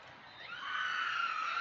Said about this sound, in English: I think you can hear those screams out there on the internet.